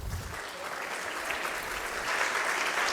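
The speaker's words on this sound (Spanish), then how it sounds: "a quien les pido un aplauso por favor" Sustained audience applause at a conference and networking event welcoming a guest speaker, a steady dense wash of many hands clapping that swells slightly toward the end.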